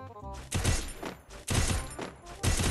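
Rapid automatic gunfire from the video game Free Fire, played on PC: three loud bursts in quick succession, each a dense rattle of shots with short gaps between.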